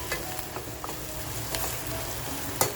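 Onion fries in a pan for mutton masala, a soft steady sizzle broken by a few light scrapes of stirring, close up and quiet with no talk.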